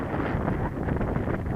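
Outdoors in a park, wind buffets the microphone in a dense, continuous low rumble that stays loud and unbroken throughout.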